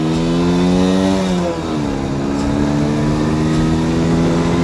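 Yamaha Virago 125 motorcycle engine drones steadily while riding on the road, its pitch dropping sharply once as a gear shifts, then holding a loud, even hum.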